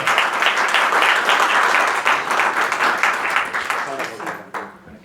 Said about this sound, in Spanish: Pido un fuerte aplauso para don Sergio